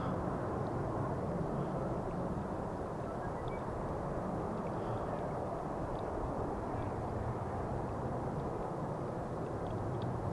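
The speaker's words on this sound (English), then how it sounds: "We are able to see the Embraer on its taxi back to the main platform area." An Embraer jet taxis at Amsterdam Schiphol Airport, its engines giving a steady, broad low rumble that holds constant throughout without any voices.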